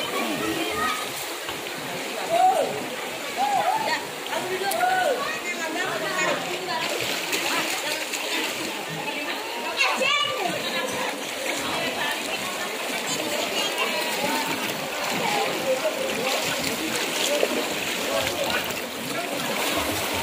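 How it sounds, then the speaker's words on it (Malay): Fast-flowing floodwater about a meter deep rushes and splashes along Jalan Haji Hadiji in Kampung Rambutan, Ciracas, East Jakarta, a loud steady wash with voices and someone speaking over it. "Nah, ini air deras sekali ya."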